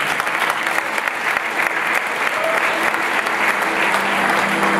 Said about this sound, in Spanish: Dele un fuerte aplauso acá a Michael Jackson